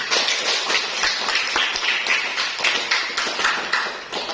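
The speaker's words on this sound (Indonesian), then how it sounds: "Tepuk tangan dulu untuk." Students in a classroom clap together for a classmate, a dense burst of many hands patting at once with a steady, even rhythm that carries on for several seconds and fades slightly at the end.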